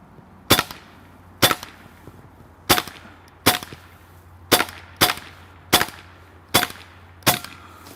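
A Hasan Bager PCP semi-automatic .22 (5.5 mm) air rifle firing nine sharp, loud cracks at irregular intervals of roughly a second, each a snappy report with a brief ringing tail, with no talk.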